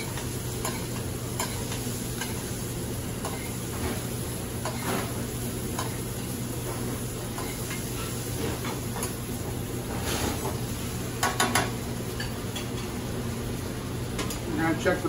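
Garlic and shallots caramelize in butter with thyme, a steady low sizzle running throughout with occasional stirring scrapes and taps in the pan, under soft background room noise.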